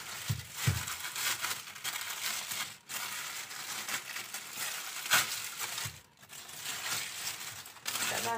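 Plastic freezer bag wrapping being peeled off and crinkled, steady close rustling and crackling that runs throughout with a few brief pauses.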